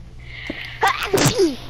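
A single sharp human sneeze bursts out close and loud, a quick intake followed by an explosive release, against a quiet background during a Minecraft PlayStation 4 Edition gaming session.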